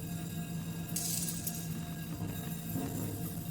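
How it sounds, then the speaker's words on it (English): Glass shattering near a door in Disco Elysium, a brief bright crash with scattered tinkling over a constant low hum, fairly faint. "Glass shatters somewhere near the door."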